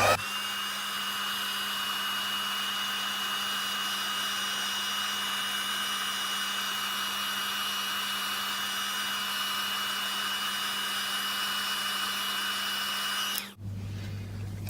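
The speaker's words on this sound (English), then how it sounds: "I'm going to heat that with the heat tool just to make sure that that's dry properly" A heat tool blows hot air steadily over freshly stamped ink on a handmade poppy card, a constant close whooshing hum lasting about thirteen seconds before it switches off abruptly.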